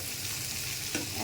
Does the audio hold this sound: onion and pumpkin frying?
yes